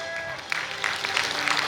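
A seminar audience in a hall breaks into applause, a dense patter of many hands clapping that starts a moment in and continues, with a voice speaking over it at the start.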